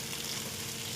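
Grated boiled egg frying in a pan, a dense, loud, steady sizzle heard close up for a brief moment.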